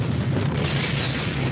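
An explosion from the 1990 film Darkman's trailer rolls out as a loud, dense, sustained roar and rumble that fills the whole moment, with no talk over it.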